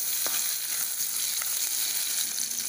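Chopped green chilli frying in hot oil, a dense, even crackling sizzle close up with no talk.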